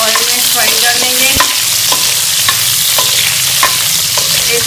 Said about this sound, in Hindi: 1 से 2 मिनट के लिए अच्छी तरह से हरी मिर्चों को फ्राई कर लें।